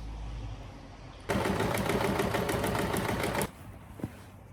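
A sewing machine stitching fabric runs in a quick, even burst of rapid needle clatter for about two seconds, close and clear, then stops, leaving quiet room tone with a small knock.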